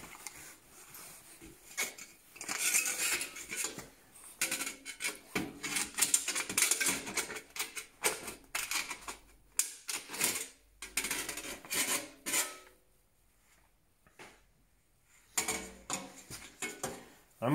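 Tin snips cut through thin sheet metal for a homemade wood-burning stove fan, giving repeated close, crisp metallic rasping snips in irregular bursts with short pauses between them and no talking.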